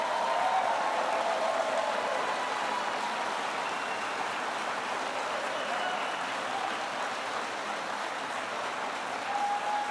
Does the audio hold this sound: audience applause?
yes